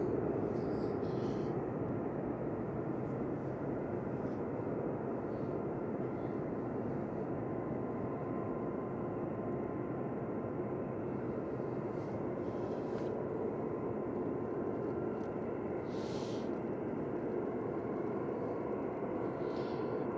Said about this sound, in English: Coming over the threshold now is EasyJet's GEZTT from Lyon, flight 2116